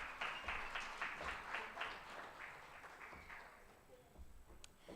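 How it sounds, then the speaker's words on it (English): A faint round of applause from a conference awards audience, steady clapping that fades out over a few seconds, heard at a distance. "Please give Tabile a round of applause."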